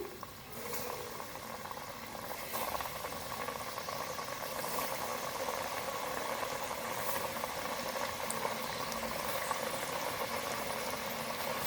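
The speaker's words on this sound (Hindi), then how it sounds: "चिकन जिंगर फ्राइज फ्राई करना स्टार्ट करते हैं। ऑयल हमारा गर्म हो चुका हुआ है।" Chicken zinger fries deep frying in hot oil, a steady, close bubbling hiss that runs unbroken throughout with no voices.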